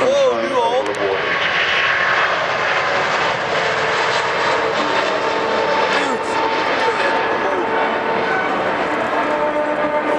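An Airbus A380 taking off at the Paris Air Show, a loud, steady jet engine roar that fills the whole stretch, with a voice talking over it.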